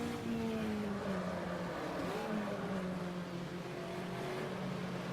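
Volkswagen Fusca race car in the Automobilista racing game, Copa Fuscas at Curvelo in Brazil, its engine droning steadily at high speed near 100 mph with a slight pitch rise, loud and continuous without talk.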